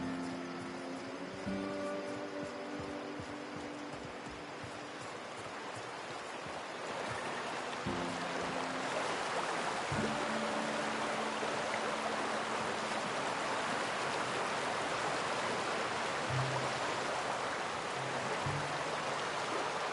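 Waterfall and stream in the video game The Outer Worlds, a steady rushing wash of water that swells louder partway through, with a few low thumps and tonal game sounds scattered over it.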